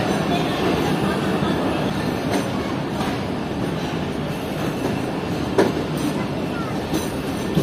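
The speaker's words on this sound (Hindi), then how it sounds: "जब ग्रीन लाइन एक्सप्रेस धुआंधार ओवरटेक करेगी हमारी 103 अब सुबह खरम एक्सप्रेस को" A Green Line Express train thunders past while overtaking another train at a large railway junction station with a big yard, a steady dense rumble of wheels and carriages with faint clicks, rolling continuously and loudly throughout.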